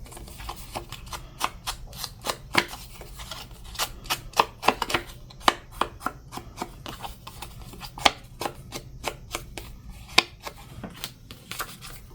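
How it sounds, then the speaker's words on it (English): Paper from a mini file folder craft kit being cut in half, a quick series of crisp, close snips and clicks in an uneven rhythm, with no talking. "We'll cut this in half."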